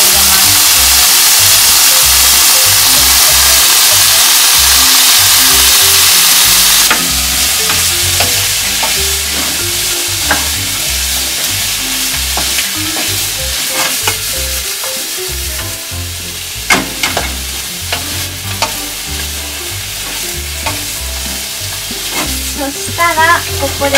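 Onions fry in a hot pan for cheese omelette rice: a loud, dense sizzle that roars at first, then settles into crackling with frequent scraping stir strokes and clicks, close up and with no talk.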